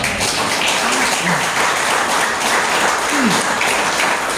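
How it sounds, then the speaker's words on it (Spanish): A church congregation claps during a sermon, a thick continuous wash of applause from many people lasting a few seconds, with faint voices under it. "Denle un aplauso al Señor."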